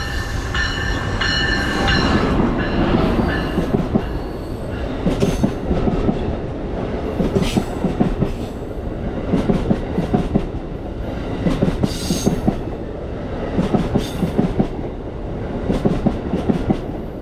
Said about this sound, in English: The frame rate of the GoPro makes the LED headlights of ACS 64 651 flicker as the train passes by on the local track.